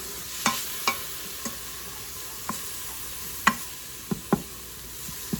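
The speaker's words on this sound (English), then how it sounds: "I'm just going to saute that up a little bit until it becomes fragrant." Food sautéing in a pan until fragrant, a steady soft sizzle with sharp scattered pops and clicks of stirring, alone and close.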